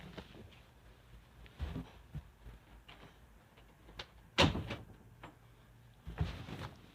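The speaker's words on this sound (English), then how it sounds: "I have to lock the frickin' door" Someone locks a door indoors: a few faint clicks and knocks, with louder sharp clacks of the latch and bolt near the middle and end, close by and otherwise quiet.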